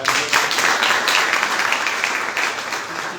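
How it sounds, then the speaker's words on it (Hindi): An audience at a book launch gives a round of applause for a speaker. Many hands clap steadily and fairly loud for about three seconds, then the clapping begins to fade. "वो इनके लिए भी जोरदार तालियां"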